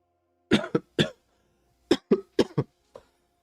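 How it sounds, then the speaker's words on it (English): Seven harsh coughs from one person with a lingering post-cold cough, in two bursts of three and four, close and fairly loud with short gaps of silence between. "Sorry about all the coughing today, chat."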